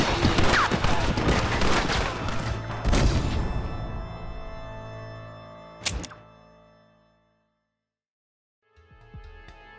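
Gunfire rings out in a Red Dead Redemption shootout, with dense shots and crashes through the first half, a sharp loud blast near six seconds, then a fade to silence before faint shots return; shouting voices are heard.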